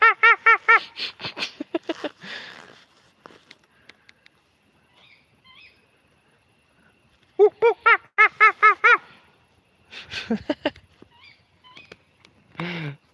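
A small bird near swans gives repeated bright, rapid chirping bursts in two clear runs, close and loud, separated by quiet gaps with faint scattered calls and light rustling.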